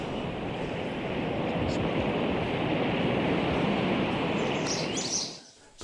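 Surf rolls steadily onto a long sandy beach near Cirali, a broad continuous wash of breaking waves with faint bird calls above it, easing off near the end.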